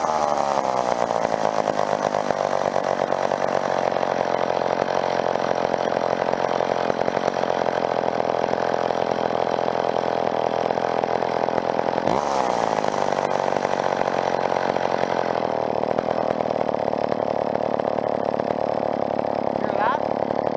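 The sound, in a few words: old McCulloch chainsaw engine running during carburetor tuning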